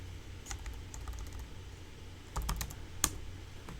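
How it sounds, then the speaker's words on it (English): Scattered keystrokes on a computer keyboard, a few soft clicks and a brief cluster near the end, faint and close in a quiet room. "Oh my gosh, this keyboard."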